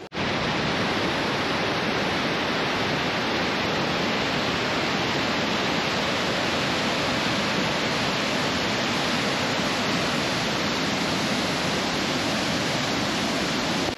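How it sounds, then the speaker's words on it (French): Powerful waterfall at Spar Mica on Quebec's Côte-Nord, the first of two falls feeding the cascade, roaring as a steady dense broadband rush close by, unbroken for the whole stretch with no voices over it. "ça, c'est la première des deux chutes, celle qui appelle la cascade"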